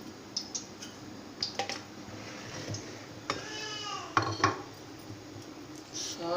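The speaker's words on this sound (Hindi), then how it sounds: "अब इस बर्तन में मैं चीनी डाल रही हूँ।" Sugar is added to a cooking pot while making halwa. Several light metallic clinks and scrapes and a brief soft granular rush stand out against a quiet kitchen background.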